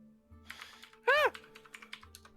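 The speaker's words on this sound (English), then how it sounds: "You guys walk in this room to the clickety-clack of a keyboard." Computer keyboard typing in a tabletop role-playing game session, a soft scattered clatter of keys with one brief louder electronic tone in the middle, fairly quiet throughout.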